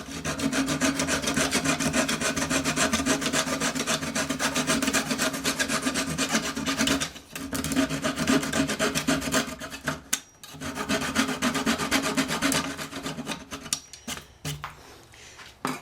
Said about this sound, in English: First thing I need to do is cut these plugs off.